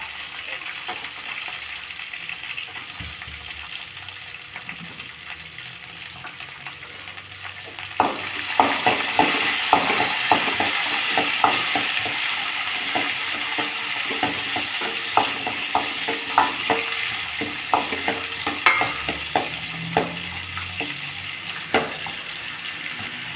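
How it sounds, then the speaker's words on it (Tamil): Quiet background hiss, then a loud sizzle as garlic hits hot oil in a pan, with crackling pops and occasional stirring clinks continuing throughout. "பூண்டு வதங்கினது போதும்"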